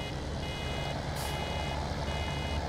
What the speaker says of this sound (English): Beeps when you're 3/4 of the way full.